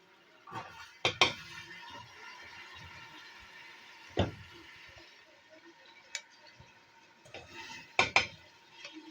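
Soaked urad lentils for Pakistani daal mash tipped into a metal pot in a few separate pours, each giving a sharp clatter and soft wet slide against the pan, with quiet stretches between.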